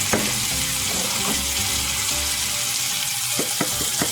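Chopped onions fry in a pan after salt goes in, giving a loud, steady close-up sizzle with a few faint clicks of stirring and no speech.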